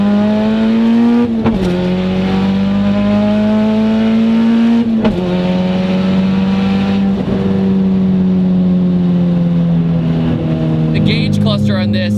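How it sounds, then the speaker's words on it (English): Turbocharged B20-swapped Honda EG front-wheel-drive car with a JDM SiR cluster, heard from inside with a loud, steady engine drone that briefly dips at a few gear shifts and then pulls again. "It's definitely a different sensation for sure driving a front wheel drive car with any sort of power."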